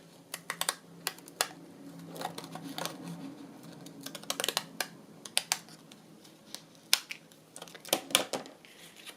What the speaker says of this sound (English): trim her down there with these nice scissors, but just on the one side